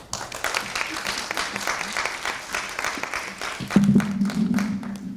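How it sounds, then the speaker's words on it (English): An audience applauds a keynote speaker walking to the podium at a Black Heritage Month celebration: a broad wash of many hands clapping, with a voice or tone rising briefly near the end under the clapping. "Please give her a round of applause as she comes to the podium."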